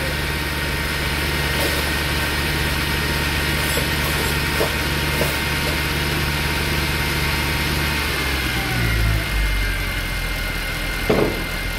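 A 2008 Mercedes E63 engine with 175,000 km idles steadily with a low, constant rumble, then shifts slightly in pitch near the end before a brief clunk.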